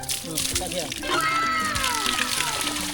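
Water gushing and sloshing from a newly drilled farm well pump, a splashy, uneven outpouring under a voice speaking throughout.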